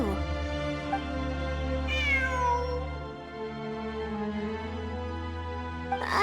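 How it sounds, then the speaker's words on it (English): A cat meows in a fantasy video game's story event, a clear, drawn-out, strongly pitched cry rising and falling over a steady droning musical background, with a shorter second call near the end. "I'm not hearing things. It really is a cat."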